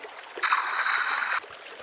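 A cartoon toy remote control drops into lake water with a bright, hissing splash lasting about a second, standing alone against quiet surroundings.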